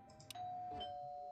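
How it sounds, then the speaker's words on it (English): Doorbell in the game Hush Hush, a quick two-tone electronic chime followed by a long, sustained ringing tone, clear and isolated against a quiet background. "The doorbell rings."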